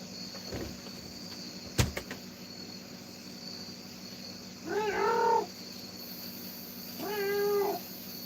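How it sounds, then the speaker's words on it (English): A cat gives two short, fairly faint meows a couple of seconds apart over steady cricket-like chirping, with a brief knock heard earlier. "watch out for the cat."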